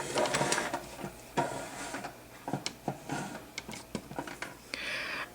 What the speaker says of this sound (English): So we're going to sew the seam.